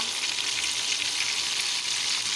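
Calamari frying in a pan of hot oil, a loud, steady, close-up sizzle that holds unbroken throughout with no voices.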